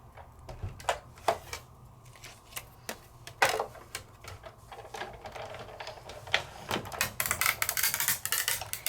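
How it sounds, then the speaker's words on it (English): A die cutting machine presses through foiled paper and adhesive, giving irregular close creaks, cracks and clicks that grow denser toward the end. "So you hear some creaks and cracks because now I'm asking it to go through paper, foiled paper at that, and adhesive"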